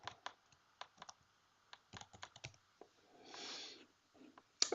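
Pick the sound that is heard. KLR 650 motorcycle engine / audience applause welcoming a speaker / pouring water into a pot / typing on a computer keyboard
typing on a computer keyboard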